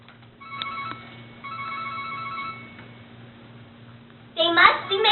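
A cell phone rings from inside a backpack, its melodic ringtone sounding in muffled bursts over a low steady hum, ending with a louder, brighter burst.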